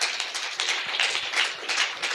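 Congregation at a Sunday church service cheering and clapping for Jesus: dense, steady applause mixed with crowd noise that swells and dips throughout, ending on a sharper, louder burst.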